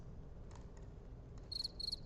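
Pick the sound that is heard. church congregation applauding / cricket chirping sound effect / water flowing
cricket chirping sound effect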